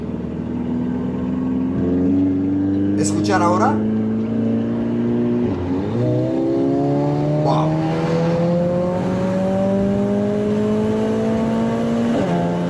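A Mercedes-AMG A45 S engine pulls hard at full throttle on the Autobahn, droning loud and steady with rising pitch and gear changes around 6,000 rpm, while a voice speaks briefly over it.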